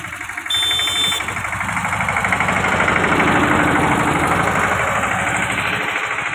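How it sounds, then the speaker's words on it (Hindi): A small tractor engine runs steadily with a chugging, knocking rhythm, fairly close and loud, with a brief high whine near the start. "देखा आप पीछे छोटा सा ट्रैक्टर जा रहा है"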